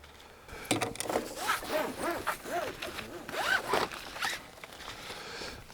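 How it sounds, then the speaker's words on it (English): A box cutter slices through the cardboard packaging of a Wood-Mizer LT15 portable sawmill in a series of quick, rasping, zipper-like strokes, close and fairly loud, with short pauses between cuts and no talking. "let's unbox this portable sawmill. I've even got a matching box cutter."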